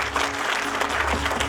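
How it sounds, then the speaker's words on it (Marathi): Steady, enthusiastic applause from an audience at a public gathering, dense clapping throughout, with a low background hum. "जोरदार टाळ्या वाजवा."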